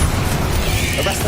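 Fiery Confringo spell explosion in Hogwarts Legacy, a dense, loud rumbling blast that fills the whole moment with low booming energy.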